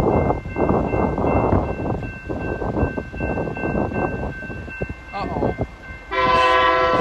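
A BNSF coal train rumbles steadily past at close range, a broad roar of wheels and cars, before its horn blares loud and sustained near the end.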